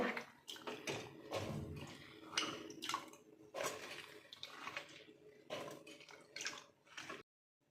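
Water is poured into a cooker in uneven gushes and splashes, close and fairly quiet, ending abruptly.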